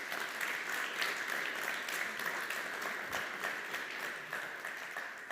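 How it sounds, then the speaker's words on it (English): Steady, sustained audience applause at a startup demo day for a jury member, many hands clapping evenly at moderate distance with no break in the sound. "Please have a huge applause for our third jury member"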